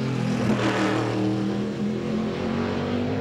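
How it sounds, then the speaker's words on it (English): A 2004 Ford NASCAR Cup race car engine drones loud and steady during pole qualifying, its note slightly wavering and blubbering through a transition, with no voices over it. "Is the car, is that the hitters, or does the car sound like it blubbers just a little bit there, but in transition, Larry?"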